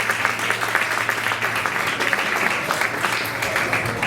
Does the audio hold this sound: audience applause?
yes